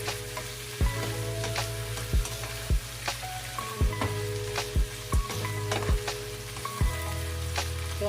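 Shrimp fry in a pan until they turn orange, a loud continuous sizzle broken by regular sharp clacks of a spatula stirring and knocking against the pan, close up with no voices.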